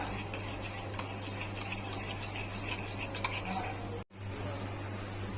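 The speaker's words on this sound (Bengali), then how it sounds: "এবার দেবো টমেটোর সস, সোয়া সস দেবো। এটাকে মিক্স করে নেব।" Tomato sauce and soy sauce being stirred into homemade restaurant-style chowmein, a steady scraping and mixing in the pan with faint clinks of a utensil, continuous and close, cut by a brief gap near the end.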